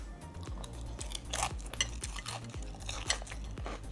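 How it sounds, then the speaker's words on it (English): Crispy wonton strips from a Chinese chicken salad being eaten, close, faint crunching bites with clinks of cutlery against a dish, no talking. "Now listen to the crunch as I eat the wonton strips."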